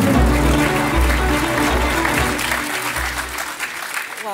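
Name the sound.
audience applause at packaging award ceremony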